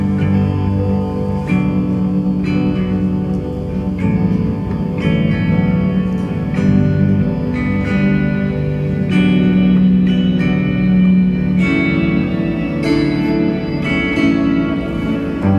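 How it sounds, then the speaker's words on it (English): Stretched, slowed clock-like ticking from a Chase Bliss effects pedal, repeating in a steady rhythm over a dense reverberant tonal wash, loud and close with no voices. "That clock noise that comes in when you dial it right down to stretch it out"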